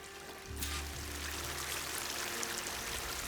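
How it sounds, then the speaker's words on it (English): Waterfall in the Horizon Forbidden West video game, a steady broadband rush of falling water that swells in after a half-second and holds loud and even to the end, with no talk over it. "That waterfall must be coming from somewhere."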